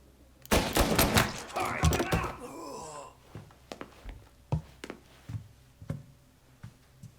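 Gunfire in the first-person Mafia Remake game sounds as a burst of shots under shouting voices, followed by scattered, sharp single reports at a moderate distance.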